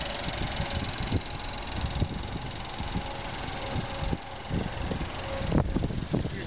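The engine of a salvage 2010 Chevy Equinox idles with a steady low rumble and faint mechanical hum, heard close and continuous with slight rustling noise over it.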